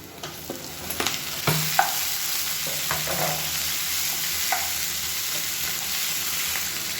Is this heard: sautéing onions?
yes